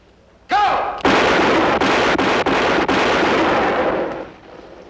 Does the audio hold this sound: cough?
no